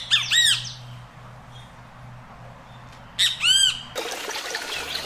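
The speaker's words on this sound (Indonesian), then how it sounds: "seperti kicauan burung," Birds give two quick bursts of loud, bright squawking chirps, first at the start and again after a pause of a few seconds, then a hiss like flowing water takes over. A faint low hum runs underneath and no one speaks.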